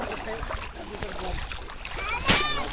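Water sloshes and splashes as someone wades through shallow water in Tirumala, with voices talking nearby and a louder splash near the end.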